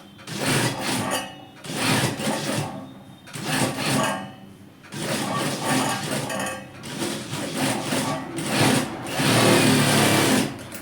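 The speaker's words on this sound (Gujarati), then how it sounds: "આ રીતે જોઈ ધ્યાનથી આવી રીતે રાઉન્ડમાં ચાંપની સિલાઈ મારવાની" Sewing machine stitching round the box strip of a side pocket on capri trousers, running in steady loud bursts with short pauses between them.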